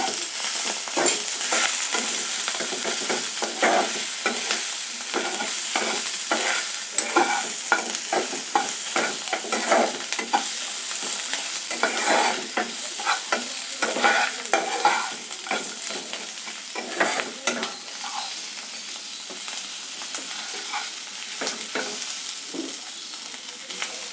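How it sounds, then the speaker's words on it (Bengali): Frying ingredients for paneer pasanda are stirred in a pan after chili and turmeric powder go in: continuous close sizzling with repeated spatula scrapes and clinks over the whole stretch, no talk. "অল্প লঙ্কা গুঁড়ো, অল্প একটু হলুদ গুঁড়ো দিয়ে একটু নাড়াচাড়া করে নিলাম।"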